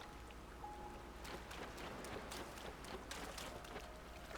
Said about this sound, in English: It'd be really cool if it was not raining right now.